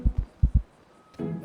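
Two pairs of deep, thumping heartbeats from a video game sound effect in a GTA roleplay, close and loud, followed by a low droning tone.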